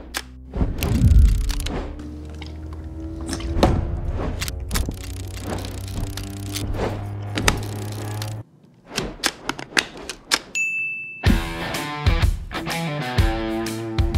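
Film being loaded into a film camera: a run of sharp mechanical clicks, snaps and thunks, with a rhythmic ratcheting wind-on, close and fairly loud, with no talking.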